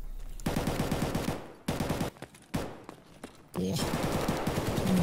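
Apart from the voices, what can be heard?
AKM rifle gunfire in the video game Escape From Tarkov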